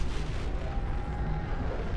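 Missile explosions in the space game Star Citizen come as a dense, continuous roar of rumbling blasts and booms, loud and unbroken with no distinct separate hits.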